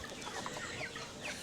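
Chickens clucking busily as they crowd after a feeding bucket, several birds calling at once in a steady, close chatter.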